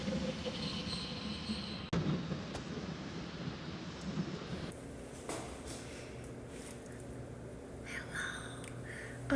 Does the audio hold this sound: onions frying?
no